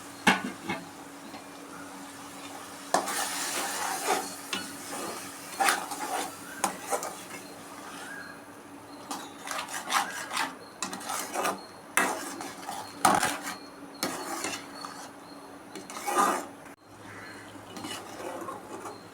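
A utensil stirs a ground masala of ginger, garlic, coriander and tomato in a pan, giving quiet scrapes and knocks in an irregular rhythm with light sizzling underneath.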